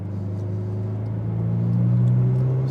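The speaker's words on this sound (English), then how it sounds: "we are now entering the Autobahn with the Ferrari 488 Pista" A Ferrari 488 Pista engine drones low and steady as the car enters the Autobahn, its pitch climbing gradually as the revs build, loud and close from inside the cabin.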